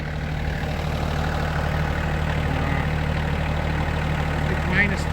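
Tractor engine idling in winter at about minus 20 Celsius with no wind, a constant, close, low rumble that holds steady throughout, with a faint brief chirp near the end.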